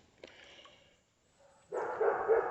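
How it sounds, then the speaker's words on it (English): Dogs bark in a loud burst near a creek, a rough continuous volley close by after a faint distant yip and a quiet pause. "I guess now I'm gonna have to listen to annoying barking"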